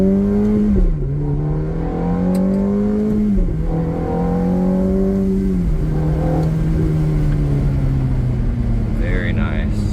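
Engine of a 2006 Ferrari F430 Spider climbing through the revs and dropping at each gear shift, three or four rising pulls in a row, loud and close throughout.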